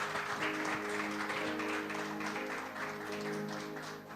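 A church congregation applauds during a service with a steady wash of many hands clapping, somewhat distant and low in level, continuous for a few seconds with faint voices underneath.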